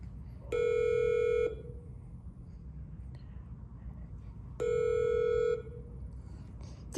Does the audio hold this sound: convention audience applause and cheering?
no